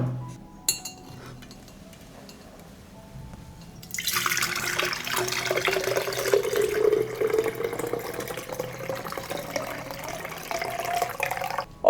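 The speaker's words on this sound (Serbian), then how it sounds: "a pre toga ćemo procediti vodu koja se ohladila" Cooled water is strained off soaked crushed eggshells, pouring in a steady splashing trickle with faint clinks of shell and glass after a quiet start, nearby and fairly soft.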